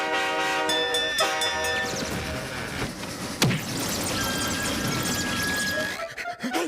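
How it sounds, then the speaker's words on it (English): A train draws near with rumbling wheels and a loud horn sounding repeatedly, the noise swelling steadily as it approaches. "I hear the train coming already."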